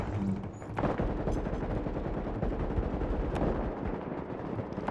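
AK rifle fire in the video game The Division: loud, rapid automatic bursts with dense overlapping shots and booming reports, continuous for several seconds, close and dominant.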